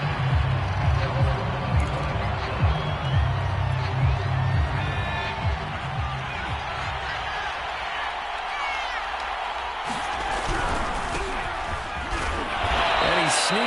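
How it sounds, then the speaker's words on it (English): A home crowd at a Madden football game keeps up a steady roar of cheering throughout, swelling louder near the end, with thuds and talk over it. "They've got their home crowd into it as well."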